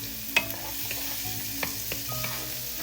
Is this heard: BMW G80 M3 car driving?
no